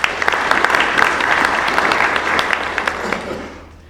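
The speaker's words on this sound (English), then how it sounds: "Give her a round of applause, please." A room of attendees at welcoming remarks applauds a guest, with dense, steady clapping that fades out toward the end.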